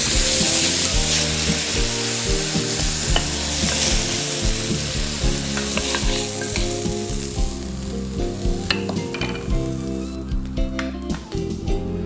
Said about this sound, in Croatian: Kratko je popržimo.